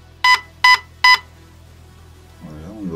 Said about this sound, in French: Je vais devoir avoir du vert ou 3 bips.